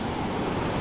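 Sea waves washing onto an Australian beach, a steady broadband surf roar close by with some wind on the microphone, no voices.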